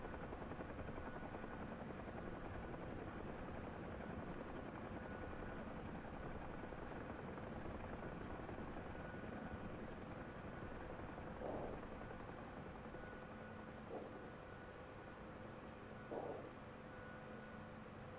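A UH training helicopter flies low near the ground while practising a landing approach, its rotor and engine producing a steady, loud, broadband whir that holds without a break and is joined by a few brief thumps near the end.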